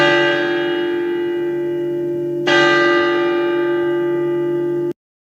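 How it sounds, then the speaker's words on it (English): Two sustained bell-like animated doorbell chimes ring out, the second struck midway as the first fades, both ringing on clearly until stopping suddenly. "I am going to ring the doorbell."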